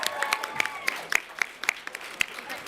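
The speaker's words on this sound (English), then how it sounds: "Congratulate, big round of applause for these guys" Scattered claps from an audience at a student course reps awards ceremony greet the winners, thin and uneven rather than a full ovation, with a few sharper hand claps standing out.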